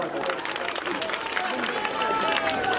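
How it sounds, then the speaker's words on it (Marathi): Audience at a village comedy show in Chik Mahud breaks into dense, sustained applause, a loud crowd clapping steadily throughout. "वहिनी साठे का जोरदार टाळ्या वाजवा"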